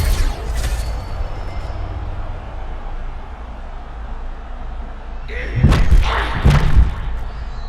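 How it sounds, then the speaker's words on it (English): Heavy ground and pound strikes land in the video game EA Sports UFC 6 women's bout, a pair of loud thuds near the end following crowd rumble, with a commentator talking over it. "landed another strike on the ground"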